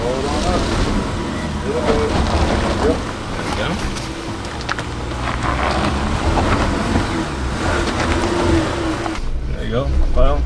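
A 2019 Jeep Cherokee Trailhawk drives off-road in dirt with a continuous engine drone, rumbling and wind buffeting inside the cabin, while people talk throughout.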